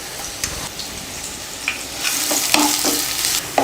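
Finely chopped onion sizzles in hot oil in a kadai with a few curry leaves, a short, fairly quiet crackle broken by the scrape and clink of stirring.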